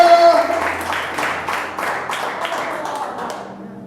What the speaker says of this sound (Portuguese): Se você crê, dá uma salva de palmas a Jesus